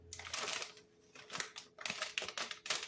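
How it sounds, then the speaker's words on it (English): Soft caramels are unwrapped by hand, giving quiet crinkly rustling in irregular bursts with short pauses, close and faint, with no one speaking. "I'm going to unwrap my caramels because they're wrapped and you need them unwrapped."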